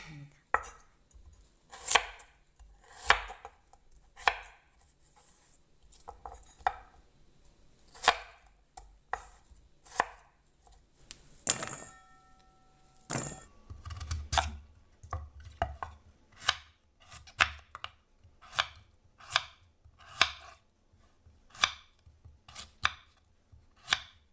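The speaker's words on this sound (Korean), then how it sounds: "사방 1cm 정도 자르면 됩니다" A knife chops radish into 1 cm cubes on a cutting board for a radish rice cake, giving close, crisp, evenly spaced thuds. A short break comes midway, then faster, steady chopping resumes. No one speaks.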